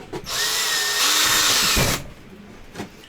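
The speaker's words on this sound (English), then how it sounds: "I am yet to drill a hole through this table" A power drill bores into a tabletop in one steady whine of about two seconds, close and loud, with a rising motor tone before it stops.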